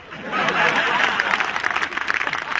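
Audience at a Malvi-language kavi sammelan poetry recital applauds, a dense, sustained wash of clapping that swells in and holds steady, with scattered laughter and murmuring in the crowd.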